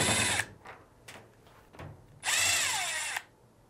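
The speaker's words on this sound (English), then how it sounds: "we'll now remove the two screw covers and the two screws" A power drill backs screws out of a Fisher & Paykel appliance cover in short whirring bursts, a brief one first, a few quick blips, then a longer steady run, close by with no talk.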